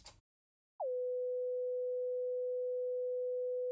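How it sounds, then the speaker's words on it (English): A pure 500 Hz sine test tone starts after a brief silence with a slight pitch settle, then holds steady and loud, clean and unbroken to the end. "So this is how 500 Hz sounds like."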